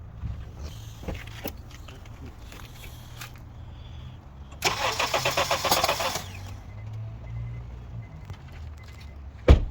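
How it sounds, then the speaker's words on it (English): Honda CR-V engine cranking with both camshaft position sensors unplugged, a loud, even starter churn running for about a second and a half without catching, set against quiet garage background. "Now both camshaft position sensor are disconnected. Let's start the engine."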